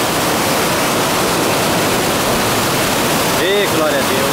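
Cachoeira da Usina da Fumaça, a waterfall in the rural district of Itamuri, thunders with a loud, dense, unbroken roar, and a brief voice cuts through near the end.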